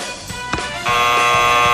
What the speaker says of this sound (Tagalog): Mocha, please test your buzzer.